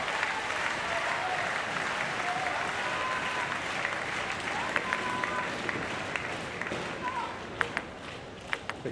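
Crowd at a Paris 2024 Paralympics table tennis match applauding in a sustained, dense wash of clapping, with scattered cheers and a few sharp claps standing out near the end.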